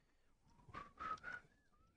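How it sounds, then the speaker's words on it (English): A person whistles a short, soft melodic phrase of a few notes, close and quiet, with no talk. "Sorry, I shouldn't whistle on the"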